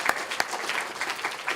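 Applause from an audience for panelists at a 2D animation livestream event, a steady, fairly soft patter of many hands clapping with occasional sharper claps and no voices.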